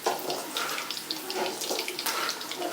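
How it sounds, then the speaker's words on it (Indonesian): Rushing flood water as a sound effect in a narrated folk tale: a steady, continuous wash of splashing, running water, fairly loud and without a voice over it. "Dan air bah pun datang"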